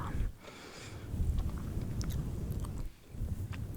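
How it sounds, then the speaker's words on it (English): Gum chewed close to the microphone in a quiet whispering ASMR setting, giving steady soft, moist smacking and clicking mouth sounds that run almost continuously with a brief pause near the end. "throughout this video I will be chewing some gum"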